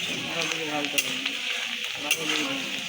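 Onion softens in hot oil over a five-spice (panch phoron) tempering while a rohu fish kaliya is prepared, giving a close crackling sizzle with a few sharp pops and faint stirring.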